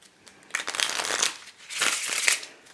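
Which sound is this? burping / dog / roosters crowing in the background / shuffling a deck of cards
shuffling a deck of cards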